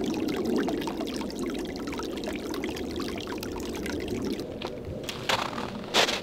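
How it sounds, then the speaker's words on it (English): A creek babbling beside a snowy winter campsite in Colorado, a continuous gentle trickle and gurgle of running water close by, with a few brief knocks near the end. "but mostly you just hear this creek babbling."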